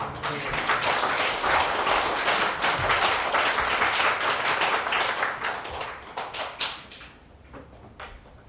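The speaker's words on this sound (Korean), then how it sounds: "우리 목소리, 아니 박수 소리가 너무 작은 것 같아요" A church congregation claps together at a thanksgiving service honoring a retiring senior pastor. The dense, lively applause lasts several seconds, then thins into scattered individual claps before it stops.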